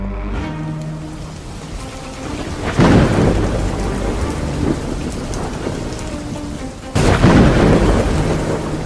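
Steady heavy rain pours through a thunderstorm effect in an Arabic radio drama, with two loud thunderclaps breaking in, one near the three-second mark and another near seven seconds, then rolling on under the downpour; no one speaks.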